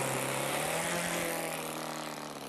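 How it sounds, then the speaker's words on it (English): A model aircraft engine runs smoothly at high speed, a loud, steady buzzing drone held close for the whole stretch and tapering slightly at the end. "this engine starts quite easily, very smooth running"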